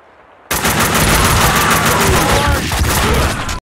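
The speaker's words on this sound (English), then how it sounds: "Kita pakai Kalashnikov." A Kalashnikov rifle fires in the video game Max Payne 2: one loud, sustained automatic burst of about three seconds that starts abruptly and cuts off sharply.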